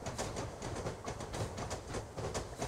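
A train rolling through a town rail yard in Train Simulator, with steady rumbling and repeated rhythmic clacks of wheels over rail joints, close and continuous.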